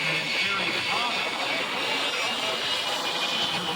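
A jet-powered truck roars at Key West Naval Air Station. The roar is loud and steady, a dense continuous blast that holds for the whole stretch, with a voice faintly mixed beneath it.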